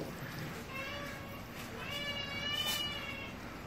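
Several cats meow in a high, repeated, wavering chorus, close by, with soft background noise and brief childlike vocal sounds mixed in.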